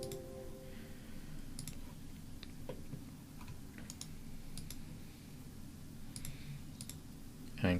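Computer mouse clicks, single and double taps at an irregular pace, close and crisp over a quiet room hum, with no talking.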